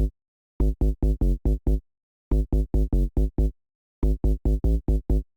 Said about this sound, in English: First up, we have the sub bass,